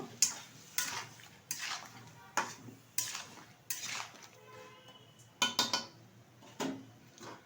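Apple and date pieces stirred in a pot of boiling water, with a spoon repeatedly scraping and clinking against the pot in short, close strokes separated by brief pauses.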